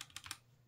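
A few soft keystrokes on a Redragon K585 DITI one-handed keyboard with brown switches, quiet and close, three light taps in quick succession with no talking.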